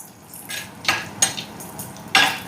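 Cashews fry in melted ghee for a Kerala broken wheat payasam, with a soft sizzle punctuated by several sharp scraping stirs of a utensil against the pan, close and distinct.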